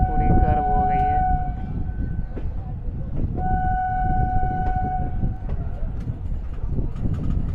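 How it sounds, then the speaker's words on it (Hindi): A Howrah–Jamalpur Express passenger train rolls around a curve near hills, its wheels giving a rumbling clatter under long high-pitched squeals of wheel flange against rail that come and go. "इधर हमारी ट्रेन पूरी कर्व हो गई है"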